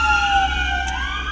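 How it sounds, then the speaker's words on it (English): An ambulance siren wails loudly and steadily as the vehicle passes close by, its tone sweeping and dropping in pitch over a constant low road rumble, with no talk. "now the ambulance passes by"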